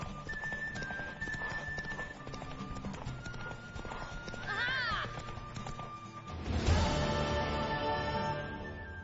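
Horse hooves clip-clopping in a steady galloping rhythm through The Witcher 3, with a sharp neigh partway through and a louder crashing burst of hoofbeats and whinnying later, close and clear over game ambience.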